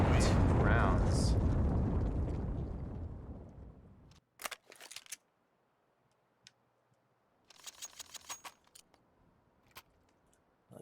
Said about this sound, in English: Bomb will officially detonate